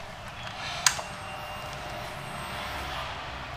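A Suzuki FU 150 fuel-injected motorcycle engine settles into a steady, low idle drone after a single sharp click early on, running evenly with no voices.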